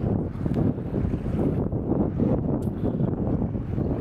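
Wind buffets the microphone on a sandy beach, a constant low rumbling roar with gusty swells and no voices.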